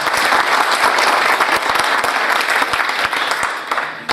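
An audience at a book launch ceremony in Islamabad claps steadily, dense, loud applause filling the room throughout, easing slightly at the end.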